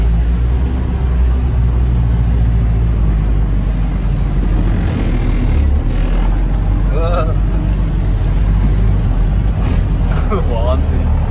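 A motorhome with locked differentials and poor tire pressure climbs 2.5 m sand dunes in the Tunisian Sahara in second gear, engine droning loudly and steadily under wind buffeting, with voices faintly heard.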